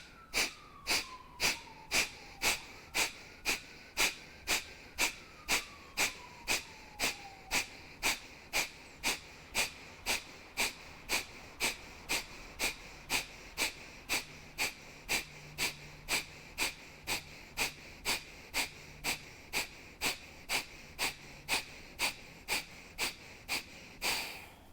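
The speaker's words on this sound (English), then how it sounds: "Take a breath in. Kapalabhati, round 3." Dozens of forceful, rapid nasal exhalations from a Kapalabhati breathing exercise pulse at an even pace of about two per second, close and sharp, with faint background sounds.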